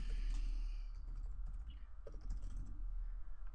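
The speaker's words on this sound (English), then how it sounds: "So I'm going to type in my name." Someone typing a name on a computer keyboard: light, quick key clicks in an irregular patter, faint and close over a low steady hum, with no voices.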